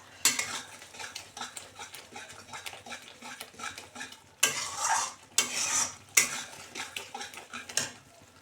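Masala paste for a vegetarian paneer dish stirred and fried in a pan, with dense scraping and clattering of a spoon against metal over a soft sizzle, heard close up with bursts of louder stirring and no talk.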